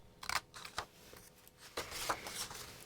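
Carving tool cutting away a marked section of a Santa wood carving: a few short, quiet scraping and snapping cuts in irregular bursts, close and alone.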